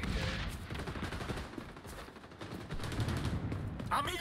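Dense, rapid automatic fire from an AK rifle in the online shooter XDefiant, cracking continuously at close range with mixed battle noise and distant shots layered beneath.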